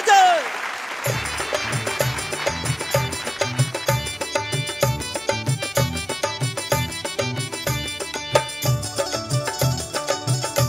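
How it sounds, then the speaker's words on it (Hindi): A TV show audience applauds to welcome Bhojpuri singers onto the stage; the clapping is mixed with loud, rhythmic music that starts after a brief opening and drives steadily underneath. "वीर अलका सिंह पहाड़िया और धनंजय शर्मा जी के जोरदार ताली बजा के स्वागत कर जाओ।"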